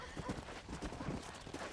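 Hoofbeats of a horse in the Red Dead Redemption video game, rhythmic clip-clop thuds moving steadily at moderate volume, with faint game voices and ambience underneath.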